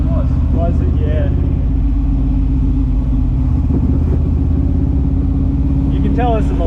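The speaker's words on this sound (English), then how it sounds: "The exhaust has some pops and cracks, but that just might be how it is." A 1962 Corvette's engine rumbles deeply and revs under steady talk, a close, continuous low growl with throttle surges; any exhaust pops are hard to pick out.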